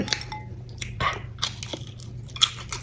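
Close, crisp crunching as someone bites into and chews crispy German pork knuckle, several sharp crackling bites scattered over a few seconds with no talking.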